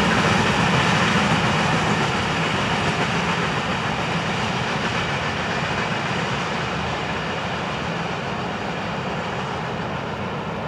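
Florida East Coast freight train number 109 rolls past at milepost 23 in the early morning, a steady loud broadband rumble of engines and wagons holding level throughout with no talk.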